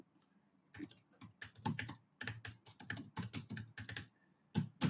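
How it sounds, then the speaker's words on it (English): Rapid bursts of computer keyboard typing, clicking in quick irregular clusters with short pauses, close and clear with no voices. "I wish I could type without wanting to say what I'm typing"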